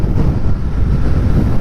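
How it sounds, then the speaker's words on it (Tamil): Strong wind buffets the microphone while a motorcycle rides through hill country, a steady loud low rumble that roars without a break and has no talk over it. "காற்றும் அடிக்குது பாருங்க, செமையாக காற்றடிக்குது."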